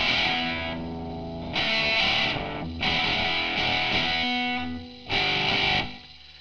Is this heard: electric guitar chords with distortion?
yes